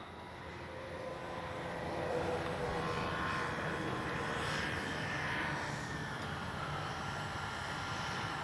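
A Dynam BF-109 RC warbird model plane comes in to land through strong, gusty crosswind, giving a steady electric motor and propeller drone with broad wind rush that swells slightly midway, fairly close and continuous, with no talking.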